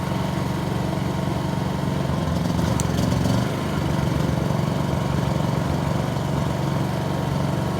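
A Honda EU2200 portable generator running on gasoline, a loud steady engine drone close by with a brief shift in pitch early on before settling back to an even hum.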